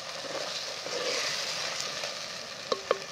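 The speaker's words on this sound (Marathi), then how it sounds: "उघडून चांगलं त्याला परत हलवून घ्यायचं, कारण आपलं जे वाटण आहे ना त्या वाटणाला मस्त असं शिजत चांगलं तेल सुटतं मग।" Masala paste (vatan) cooking in oil for sukka mutton, with steady close sizzling and frying as it is stirred, and two sharp utensil clinks near the end.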